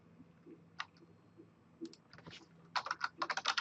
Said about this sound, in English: type in reload